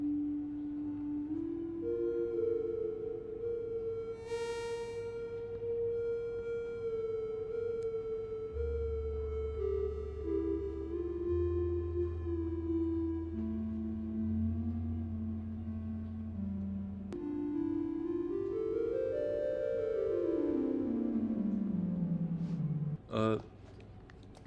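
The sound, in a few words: sine wave synth in Ableton Meld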